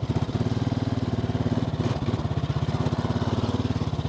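Honda Fourtrax 300 ATV engine idling high, a close, loud, rapid and even putter with steady pulsing throughout and no voices.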